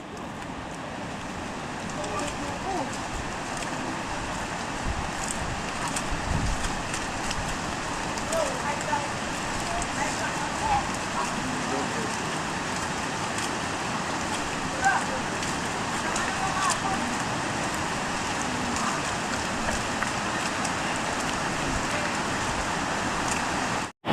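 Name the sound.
heavy rain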